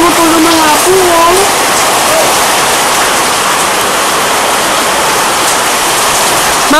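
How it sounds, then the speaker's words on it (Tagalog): Heavy typhoon rain pours down in Cavite, a loud, dense and constant roar of rainfall with a voice briefly heard near the start. "ano po masasabi niyo sa ulang nagaganap ngayon sa Cavite?"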